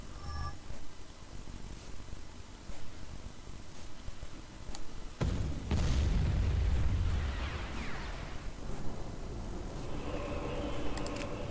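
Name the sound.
bombing run explosions in the Empire at War video game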